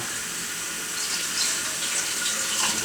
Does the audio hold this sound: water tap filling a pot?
yes